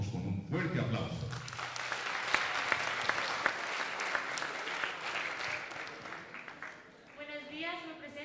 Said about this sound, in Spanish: a Yalena Fajardo Rivera la recibimos con un fuerte aplauso